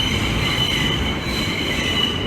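A J line subway train runs loud and close, its wheels squealing steadily over a dense rumbling roar for the whole stretch.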